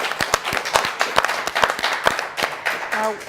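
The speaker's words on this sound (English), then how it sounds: "So give yourselves a big round of applause." A studio audience at a show taping claps in a short burst of scattered, fairly close applause lasting about three seconds, ending as a brief tone sounds.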